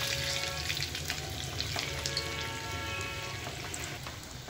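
Medu wada frying in hot oil while being turned to crisp, a steady dense crackling sizzle with small popping spatters throughout, close and continuous with no talking.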